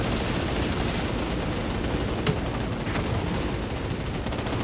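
Continuous dense gunfire in an online roleplay shooter game, steady rattling bursts filling the whole stretch at constant loudness with one sharper crack partway through, no talking.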